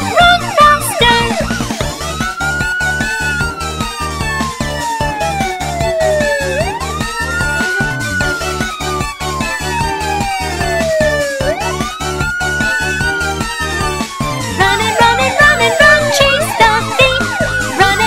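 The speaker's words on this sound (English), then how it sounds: "Police car!" A cartoon police car siren in a children's vehicle song, a loud wailing tone sweeping up and down repeatedly over bright backing music.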